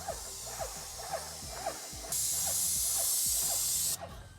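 A Graco Magnum Pro X19 airless paint sprayer spraying paint gives a steady bright hiss in a burst of about two seconds, over quieter rhythmic clicks and handling noise.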